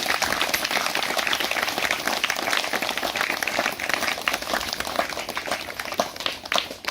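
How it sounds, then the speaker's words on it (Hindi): A church congregation claps steadily in praise, a dense continuous patter of many hands that stays fairly even throughout, with no voices on top. "ताली बजाएं यीशु मसीह के लिए।"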